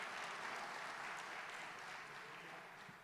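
Church congregation applauding during a sermon, a steady wash of dense clapping that holds at an even level throughout with no voices standing out.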